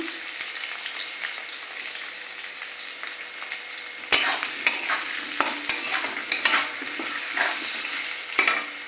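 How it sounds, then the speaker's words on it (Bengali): Potatoes fry with a soft steady sizzle in a pan, then a spatula starts scraping and stirring them, adding louder irregular clatters over the frying. "আলুটা একটু নেড়ে করে ভাজা ভাজা করে নেবো।"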